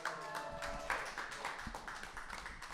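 A live audience claps to welcome the next performer at a comedy stage show, a steady patter of hands with faint tonal sound at the start and no one speaking.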